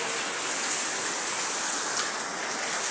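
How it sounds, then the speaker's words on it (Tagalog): Steady, dense hiss of heavy afternoon rain pouring down, constant and fairly loud with no voices or breaks. "Grabe yung ulan."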